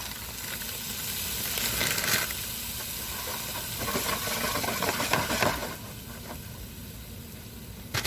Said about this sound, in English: Now the goal here is just to dry out the spinach so that it's not making the pizza crust soggy